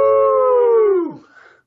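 Two men howl together in imitation of wolves, a loud, sustained tonal howl that holds steady and then drops in pitch and trails off, their voices overlapping almost as one.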